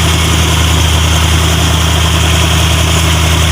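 A 2021 Toyota 86 engine runs loudly and steadily at idle in close range, a constant droning hum with a firm low-pitched tone and no voices over it.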